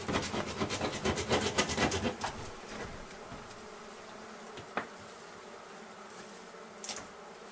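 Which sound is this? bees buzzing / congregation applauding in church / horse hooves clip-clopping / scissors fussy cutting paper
bees buzzing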